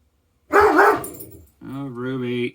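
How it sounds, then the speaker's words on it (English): A guard dog barks loudly and close, one rough bark followed by a longer, harmonic, whining bark, with no talk over it. "He's a guard dog."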